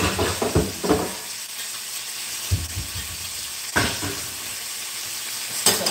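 Sauce is stirred into a sizzling frying-pan mixture, producing a steady hiss of frying with repeated scraping and stirring knocks from a utensil against the pan, close and fairly loud.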